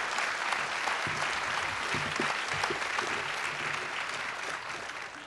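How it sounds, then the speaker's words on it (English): Graduation ceremony audience for the class of 2011 claps continuously, a broad steady wash of applause from many people that eases slightly toward the end. "Let's give her another round of applause"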